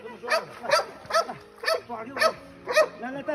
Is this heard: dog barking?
yes